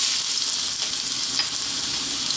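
Ginger hits very hot sunflower oil in a wok over high heat, giving a bright, steady, close sizzle with faint stirring underneath.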